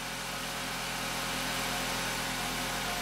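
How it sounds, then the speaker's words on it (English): A VW Rabbit engine idles with a steady, low mechanical hum and faint vibration, quiet and unbroken, and no one speaks. "As you guys can hear, the engine is running"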